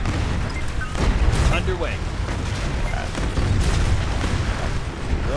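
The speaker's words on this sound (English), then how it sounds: "Nuclear missile. Fired." Heavy booms and blasts roll through a nuclear missile strike in the futuristic strategy game ANNO 2205, loud and continuous, with a brief spoken game voice cutting in over the explosions.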